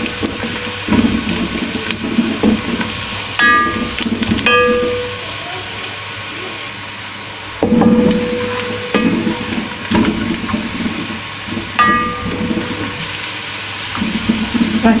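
Sliced onions fry and brown in hot oil for a Kabuli chana pulao, a steady close sizzle with occasional clinks and stirring, a bright ringing tone cutting in now and then.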